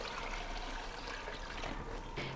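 Four glasses of water go into spiced moong lentils in a cooking pot, making a soft, steady trickling pour that runs quietly and continuously throughout.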